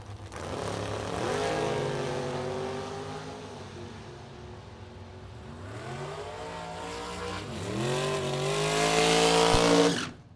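Drag racing dragsters, including a 2011 Racecraft Chassis car, launch down the strip at the Firecracker Bracket Nationals with a loud engine roar that rises in pitch. A second car follows in another rising howl, and both fade as they run away.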